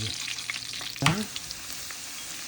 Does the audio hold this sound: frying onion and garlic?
yes